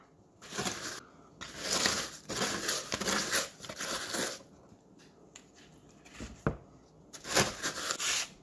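Dry concrete mix is packed by hand into a mold, with bursts of gritty crunching and rustling that come and go in short spells between brief quiet gaps.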